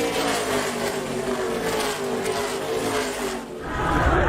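A NASCAR race car spinning out roars at a steady, loud engine pitch, then dips briefly before swelling again, with other cars' engines blending into a dense continuous drone.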